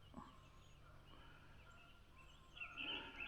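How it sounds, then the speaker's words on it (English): Chickens call faintly outdoors on a cold morning, distant and low-level, with a slightly louder cluster of clucks toward the end. "All the chickens just came out."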